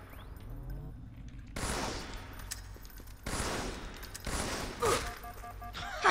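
Bursts of gunfire and melee strikes from the Halo 2 video game, several loud blasts separated by short gaps, with some quieter in-game sounds between them.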